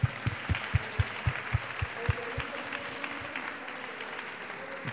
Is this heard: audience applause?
yes